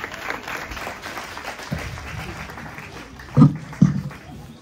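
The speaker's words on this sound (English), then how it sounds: "We can clap again." An audience at a school handing-over ceremony claps in a sustained, scattered patter, with a couple of louder thumps near the end.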